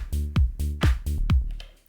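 A Roland S1 synthesizer used as a tone generator plays a short sequenced pattern, alternating buzzy sustained notes with punchy plucky hits in a quick repeating rhythm, close and clean, decaying at the end.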